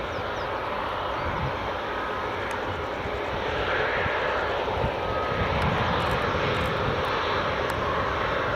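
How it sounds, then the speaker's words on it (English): Ryanair Boeing 737 MAX rolling along the runway at Edinburgh Airport, a steady, loud broadband jet roar that builds slightly and holds throughout with no voices. "The Ryanair 737 MAX just rolling as well."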